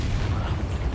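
A Bombarda spell explosion in the video game Hogwarts Legacy, a brief deep boom with heavy low rumble lasting under a second.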